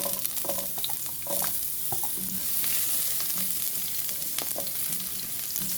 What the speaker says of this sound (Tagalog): mainit na yung aking mantika. So, ilalagay ko na yung aking onion.